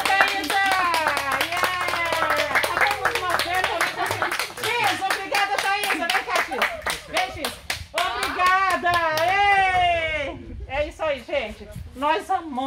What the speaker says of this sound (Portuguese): vamos dar uma salva de palmas para nossa amiga Thaisa?